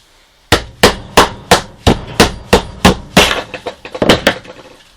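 A knife set on top of a dry stick is batoned through it for fire lighting outdoors: about a dozen sharp, loud wooden knocks land in a quick, fairly even rhythm, close by and with no voices.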